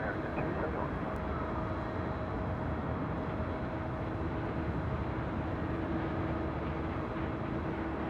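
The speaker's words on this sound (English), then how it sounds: "This is American Airlines, Flight 271 heading to Kahului in this A321neo." An American Airlines A321neo jet taking off from runway 24 left at LAX, a steady broadband engine roar that holds level throughout, heard from a distance with a faint tonal hum and no voices.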